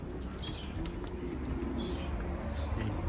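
Pigeons coo softly in a backyard aviary alongside cockatiels and parakeets, with faint bird calls over a steady low rumble of background noise.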